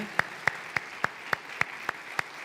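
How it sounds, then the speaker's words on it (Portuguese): In a church service, handclaps ring out one at a time at an even, unhurried pace, about eight sharp separate claps standing out over a quiet room. "A igreja pode saudar com uma salva de palmas aí"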